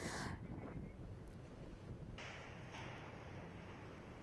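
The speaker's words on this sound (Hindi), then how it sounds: "आप तस्वीरों में देखिए कितनी तेज रफ्तार से ये हवाएं यहाँ पर चल रही थी।" Strong winds of Cyclone Hudhud buffet the microphone in a steady, loud roar, with rushing wind noise sustained throughout and no voices.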